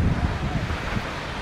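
Fungfungey waterfall in Taplejung, Nepal, giving a steady, close broadband roar of rushing water, with wind buffeting the microphone throughout.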